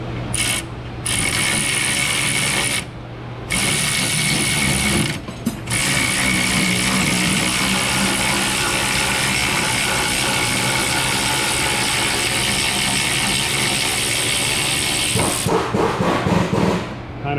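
Ratchet wrench clicking steadily to pull a bolt on a crash-damaged subframe and suspension, a continuous loud near mechanical rattle with a few brief pauses, no voices.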